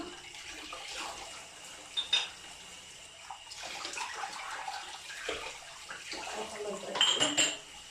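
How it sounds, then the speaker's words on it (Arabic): Dishes being washed in a kitchen sink, with faint running water, soft scrubbing and occasional clinks of plates and cutlery, quiet and intermittent. "هبدأ كده اغسل بقى كده الأطباق"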